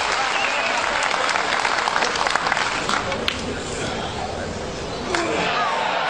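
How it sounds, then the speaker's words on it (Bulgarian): Snooker spectators applaud warmly after a break of over a hundred, steady crowd clapping with a few sharper claps standing out, and a commentator talking over it. "Тук вече никой не пести аплодисментите."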